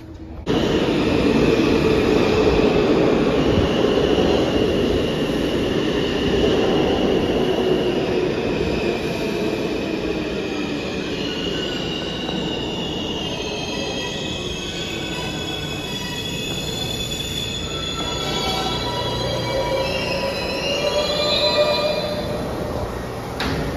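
A New York subway train in Queens rumbles steadily along the tracks as its wheels let out long, high-pitched squeals, loud and close throughout, with no voices.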